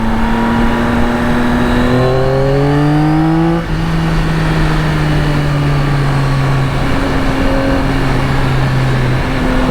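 A 2024 Yamaha XSR900 motorcycle engine pulls hard at high revs on a road ride, its tone climbing steadily, briefly dropping at a gear change, then climbing again in a loud, continuous drone.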